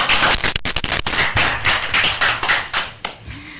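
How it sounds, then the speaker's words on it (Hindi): Studio audience on a children's radio show claps for a child in loud, sharp, uneven bursts, several hands close by, thinning out near the end. "मोहम्मद अहमद के लिए एक दफा फिर से जोरदार तालियां"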